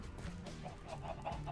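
Chickens in the Minecraft video game give soft, repeated clucks over a low background hum, coming more often toward the end.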